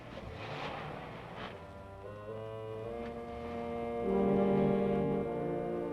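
An old car engine in a 1937 serial starts up and pulls away: a steady droning hum rises in pitch and swells louder toward the end, with no talking.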